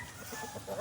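Young roosters (stags), nearly seven months old, clucking softly in a sunny yard, a few short low murmurs spread across a brief moment with no talk.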